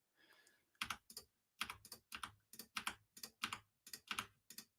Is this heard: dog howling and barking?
no